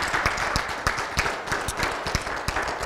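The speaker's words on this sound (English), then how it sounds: "come on, let's give the Lord a hand clap of praise." A church congregation claps in praise during a Sunday service, a fairly quiet spread of hand claps with some sharper individual slaps standing out, no voices over it.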